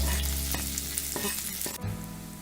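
Chopped spring onion, garlic and green chillies sautéing in a pan, soft sizzling with a few stirring scrapes and clinks, fairly quiet and close, no talking.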